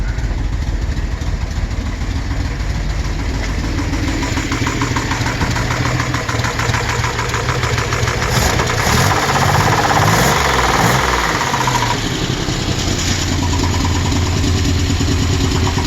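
A 1972 Citroen SM engine runs loudly up close at its first start in 22 years after sitting as a barn find, idling with a knocking rhythm, then revs up and settles back down.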